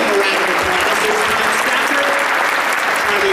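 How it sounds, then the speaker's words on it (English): A large audience applauds loudly and continuously as Apollo astronauts come on stage at an Omega event in Las Vegas, a thick roar of many clapping hands with crowd voices mixed in. "Please give them a round of applause."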